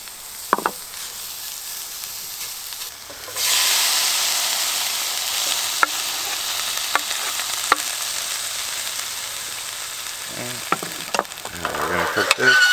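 Shrimp and tomatoes hit hot garlic oil in a stainless steel pan, bursting into a loud, steady sizzle after a quieter stretch, with a few utensil taps and stirring scrapes near the end.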